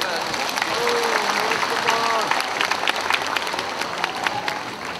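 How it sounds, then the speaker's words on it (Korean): Audience applause at the opening ceremony of the 12th Arirang festival in Jeongseon, South Korea: dense, steady clapping from a large crowd that holds for several seconds, with some voices and faint tonal sounds mixed in. "여러분 따뜻한 박수 부탁드립니다."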